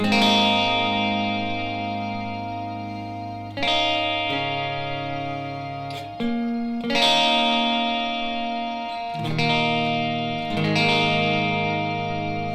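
Electric guitar chords ring out through a shimmer reverb pedal, lush and shimmering, bright octave-like overtones swelling and sustaining as each chord changes slowly.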